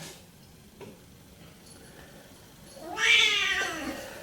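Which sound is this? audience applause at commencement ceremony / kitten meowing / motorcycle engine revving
kitten meowing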